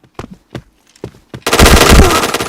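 Shooting video game gunfire: a few sharp separate shots ring out, then a dense, loud burst of rapid automatic fire fills the end.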